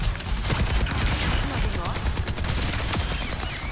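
Rapid gunfire in the video game Overwatch 2, dense bursts of automatic shots firing continuously with sharp, loud cracks throughout, close and heavy, with occasional voices mixed in.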